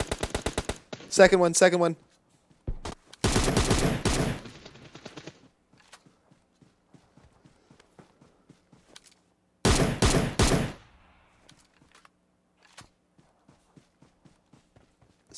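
Gunfire in an online multiplayer shooter game comes in three sharp, loud rapid-fire bursts, with quieter scattered shots and footsteps between them and a player talking briefly.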